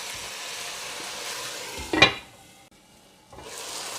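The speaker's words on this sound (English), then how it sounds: "You're going to give this a stir to see how it is" Mushrooms simmering in a covered pot are stirred once with a utensil, giving a brief scraping clatter over a soft steady sizzle that then quiets.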